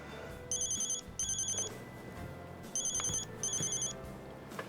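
A mobile phone rings in repeated bursts of an electronic ringtone, four short chiming pulses separated by brief gaps, fairly close over low office room noise.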